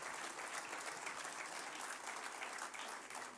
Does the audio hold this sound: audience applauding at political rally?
yes